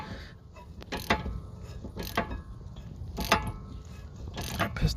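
Metallic ratcheting and clicking as the last bolt is worked out of an electric rear brake caliper on a 2020 Chevy Equinox, irregular close bursts of tool mechanism with brief pauses in between.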